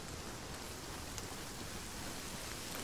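Rain in the video game Operation Trebuchet falls as a steady, even hiss of dense raindrops, constant and moderately loud throughout with no other sounds standing out.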